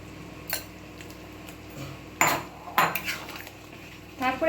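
Paneer chilli gravy being stirred in a pan, a utensil scraping and clinking against the metal in a few separate knocks and scrapes, close and moderately loud.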